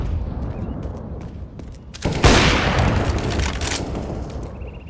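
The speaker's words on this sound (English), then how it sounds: "Grenade." A grenade explodes in Counter-Strike: Global Offensive, a sudden loud boom cutting through the game's background noise and trailing into a broad rumbling wash that fades slowly.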